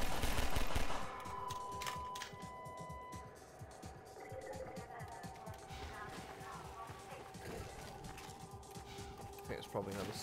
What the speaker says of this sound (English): the submachine gun in this is it's super inaccurate